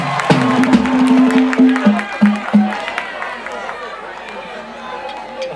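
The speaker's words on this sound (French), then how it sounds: "Un peu de bruit, applaudissez très fort s'il vous plaît" Concert crowd at a Congolese music festival claps and cheers when asked, a loud burst of clapping and shouts with a few sharp hits and a low tone early, then fading under chatter.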